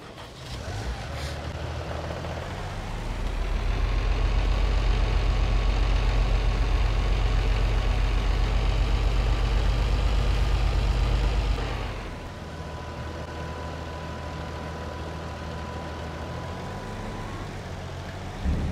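A tractor engine in Farming Simulator drones steadily at idle, then revs to a louder, heavier rumble for several seconds before dropping back to a lower, even idle, with no talk.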